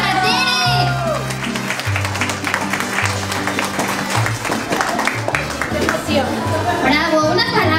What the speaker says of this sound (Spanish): ¡Fuerte aplauso para Tere!